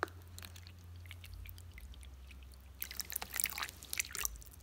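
Water trickles and splashes into a small dish in a tarantula enclosure, with quiet pouring that becomes busier and more splashy toward the end over a low hum.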